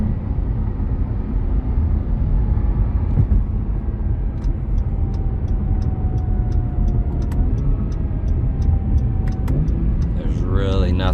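A 2022 Acura NSX Type S SH-AWD hums along on a test drive, with steady road and engine noise under a faint whine and a regular soft ticking, like a turn signal, midway.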